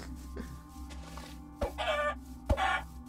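Minecraft chickens cluck nearby in a few short bursts over a quiet background, two louder squawky calls standing out near the end.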